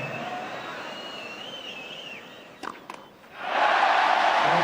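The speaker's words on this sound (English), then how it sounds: "They cheer again." A Davis Cup tennis crowd at a 2008 semifinal between Ferrer and Roddick bursts into loud, sustained cheering near the end, following quieter crowd murmur and a couple of sharp claps or thumps.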